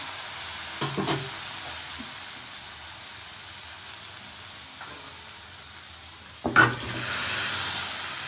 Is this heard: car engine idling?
no